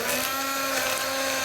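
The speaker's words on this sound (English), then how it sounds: "And then we're just going to blend it with a hand blender." A hand blender whirs steadily through roasted root soup with garlic, a close, even motor drone with a high whine and no pauses.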